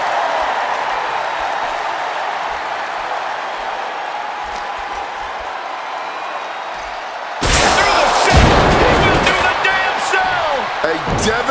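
A brutal body-slam collision in the wrestling game WWE 2K26 after a fall from the cell, a sudden heavy crash bursting in midway over steady crowd noise and continuing as a loud roar.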